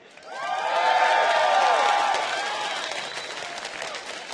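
A large esports arena crowd at the 2012 League of Legends World Championship cheers for SK Gaming with loud applause, whistles and high shouts that swell quickly, peak, then ease into a steady roar.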